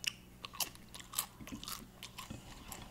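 Crunchy nachos and green onions are chewed close to the mic, with sharp crisp crunches and bites in an irregular rhythm over a quiet low hum.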